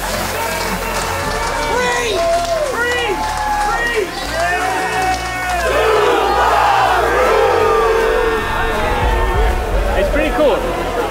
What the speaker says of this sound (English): Awesome to see the crowd here in Trois-Rivieres.